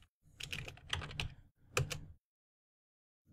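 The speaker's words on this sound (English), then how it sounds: "So just type right here NS lookup facebook.com." A computer keyboard clatters with two close bursts of quick keystrokes as a command is typed, then falls silent.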